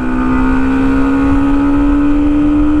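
Hero Xtreme 125R motorcycle accelerating hard on an expressway through the gears, its engine a loud steady rising drone with strong wind noise, close and continuous, no talk.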